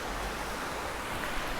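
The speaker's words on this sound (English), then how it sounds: "Here it is, the creek." A creek running behind an RV park gives a soft, steady rushing of flowing water, fairly faint and unbroken, with no talking.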